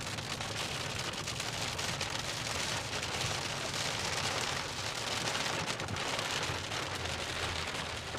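Heavy rain drums steadily against the side window of a storm-chasing car during a tornado-possible thunderstorm in Indiana, a dense, continuous close patter filling the whole stretch with no voices.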